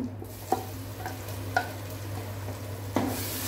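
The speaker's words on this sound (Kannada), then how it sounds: "ಇದನ್ನು ಸ್ವಲ್ಪ ಒಂದು 10 ನಿಮಿಷ ನಮಗೆ ಫ್ರೈ ಮಾಡೋ ಪ್ರೋಸೆಸ್ ಉಂಟು" A ground masala paste sizzles as it fries with onion in a hot pan for chicken biryani. A spoon stirs it with a few distinct scraping taps over a steady hiss, and no one speaks.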